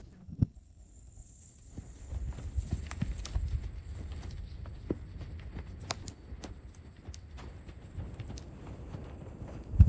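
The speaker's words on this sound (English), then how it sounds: "That's a horse." Horse hooves clip-clop steadily close by in the countryside, a run of irregular knocks and thuds over a low rustling background, with a faint high hiss throughout.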